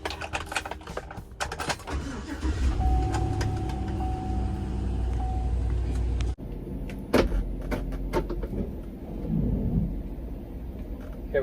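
A U-Haul truck engine cranks and turns over, a low rumbling drone with a whirring starter tone, then settles into a steady idle after a sharp clunk, close and alone without talk.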